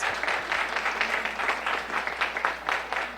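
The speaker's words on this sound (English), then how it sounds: "Can I have a round of applause for our panelists" An audience at a launch party claps for panelists on stage, a short burst of fairly close, uneven applause with distinct individual claps pulsing through the wash.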